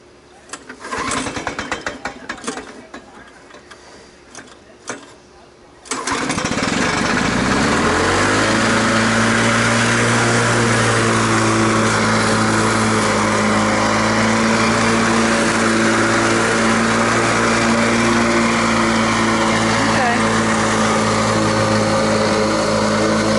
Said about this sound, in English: As you can see, it's a good working mower.